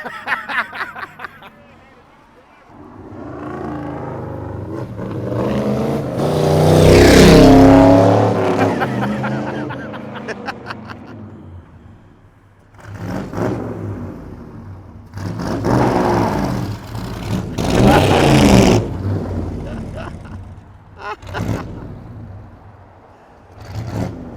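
A '57 Chevy wagon engine revs hard in sustained loud surges, with people talking and shouting over it throughout.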